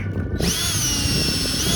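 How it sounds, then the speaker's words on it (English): A power drill with a 3/8 bit countersinks holes in the teak deck of a Hallberg Rassy 352 sailboat. It whines up loud and close after a brief pause, then holds a steady, continuous drone to the end. "It's time to drill. Just gonna over drill the holes first."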